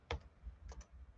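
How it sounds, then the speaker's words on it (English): A few faint keystrokes on a computer keyboard tap out close by, quiet isolated clicks over a low room hum. "So I'm going to type in"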